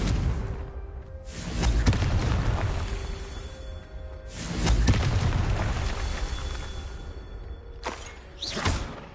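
Confringo fire spells explode in the Hogwarts Legacy video game: three loud, deep booms with whooshing bursts, spaced a few seconds apart, each decaying into a rumbling tail.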